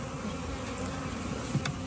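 Honey bees from a package being installed into a top bar hive hum in a dense, continuous drone close by, with a brief wooden knock near the end and no talk.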